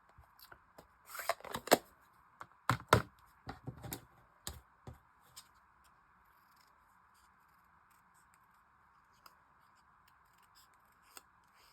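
Scissors snip through card stock around the edge of a handmade card, a cluster of sharp close cuts and paper rustles early on, then a few sparse snips and soft handling against a steady background hum.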